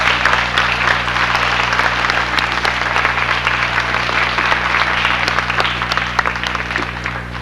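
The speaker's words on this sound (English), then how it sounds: "You guys owe them a round of applause." Sustained audience applause at a 1995 school graduation ceremony at the Edgar B. Davis School in Brockton, Massachusetts, a dense, steady wash of many hands clapping loudly throughout, with no voices standing out.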